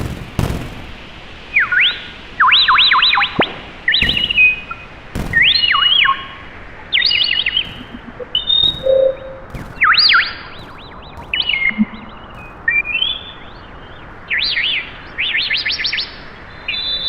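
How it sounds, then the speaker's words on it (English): Synthetic, non-natural birdsong produced by live coding: loud, bright chirping phrases in rapid clusters, repeating in uneven bursts with short gaps, preceded by a few sharp clicks. "Starts becoming non-natural birdsong."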